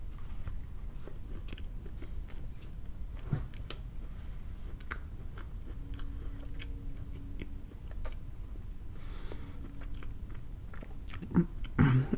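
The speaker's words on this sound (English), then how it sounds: "I'm struggling to chew on this" Chewing a dry, buttery honey butter biscuit during a mukbang meal: close, moist mouth sounds with soft crunches and bites repeating irregularly, with no talk.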